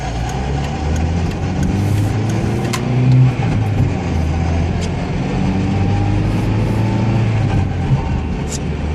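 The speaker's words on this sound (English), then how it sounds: "it actually drives fine, despite the fantastically horrible noise coming from the transmission" A 1999 Plymouth Neon Style driving with a steady engine drone and a low, rough whine from a faulty transmission running underneath, continuous and fairly loud throughout.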